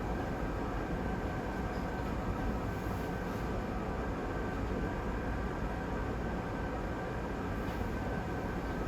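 A SEPTA regional rail train comes off the Warminster branch near Carmel interlocking on a snowy day, heard from aboard another train: a steady, loud rumble and rolling drone holds throughout with no talk.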